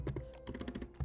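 Computer keyboard keys tapped while entering JavaScript code for a Discord.js bot, a quick, close run of light clicks over about a second.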